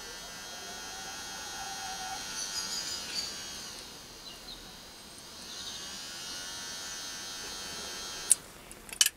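A 24v compound drive motor running at 30 RPM: a steady, close electric whine and buzz with a slowly wavering pitch, ending with a few sharp clicks.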